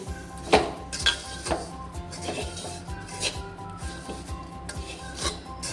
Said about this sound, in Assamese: এতিয়া মই গেছৰ ফ্লেমটো বন্ধ কৰি কিনে 5 মিনিটমান এনেকৈ লৰাই থাকিম